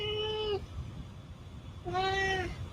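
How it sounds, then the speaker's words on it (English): A cat gives two clear, drawn-out meows a second or so apart, close and fairly loud, with no talking. "And there's my cats."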